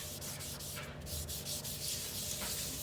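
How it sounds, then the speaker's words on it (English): Steady scrubbing of a kitchen sink with borax, marked where cast iron pans rub against it, a close, rhythmic rubbing and grinding that runs on alone. "Okay, I'm just going to scrub it"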